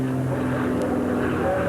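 Extra 300S aerobatic propeller plane maneuvering at an airshow, its engine droning loudly and steadily with shifting pitch as it dives.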